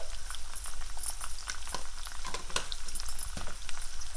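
Taro root pieces fry with coriander powder in a pan, giving a steady, close sizzle with crackling spatter and occasional pops, alone without voices.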